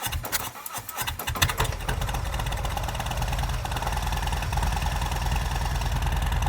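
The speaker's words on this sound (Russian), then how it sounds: "Потом включить зажигание и запустить двигатель на холостых на 15 секунд" A Harley-Davidson motorcycle engine starts with a few sputtering bursts, then settles into a steady, loud idle with a continuous rumbling throb.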